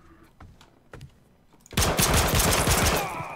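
Automatic gunfire in a first-person shooter game: a few faint isolated pops, then a sudden loud, sustained rattle of rapid shots that keeps firing for over a second.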